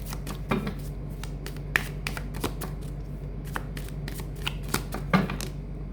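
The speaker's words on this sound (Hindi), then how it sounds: "मैं कुछ और टेरो से कार्ड्स निकालती हूँ" Tarot cards are shuffled and pulled from a deck, making close, crisp riffles and sharp flicks in irregular bursts over a low steady hum.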